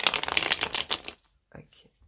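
Close, rapid riffling of a tarot deck, a dense papery flutter lasting about a second before stopping, followed by a brief soft card tap and a quiet voice.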